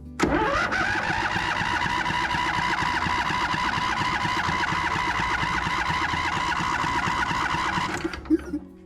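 Craftsman zero-turn mower engine cranking over on its starter for about eight seconds during a spark check, a loud steady whirring drone with rhythmic chugging underneath, then cutting off with a few clicks.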